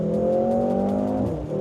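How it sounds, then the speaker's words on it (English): Steady, loud engine and exhaust drone of a Mercedes-AMG GLC 43 SUV heard from inside the cabin at a test track, holding an even tone before easing off briefly near the end. "I don't know whether it's coming from the speakers or it's coming from the exhaust"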